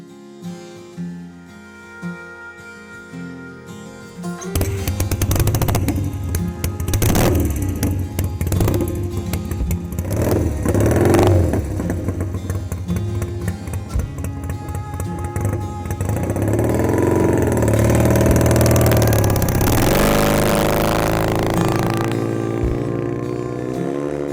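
Car engine loud and close during a run with gear-shifting trouble, revving hard and sustained for about twenty seconds with uneven surges and dips in pitch.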